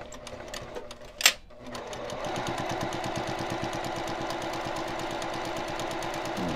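A sewing machine stitches a pillowcase seam in a steady, rapid run of needle clatter after a brief sharp click, close and moderately quiet, with no talking.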